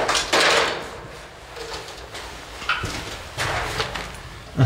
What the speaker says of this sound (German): Ah, das war die Tür, die wir vorhin versucht haben.